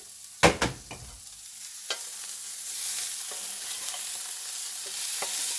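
Spicy potato and sweet potato wedges frying in a pan, with a few sharp clanks of a utensil against the pan at the start, followed by a steady close sizzle and scattered scraping stirs.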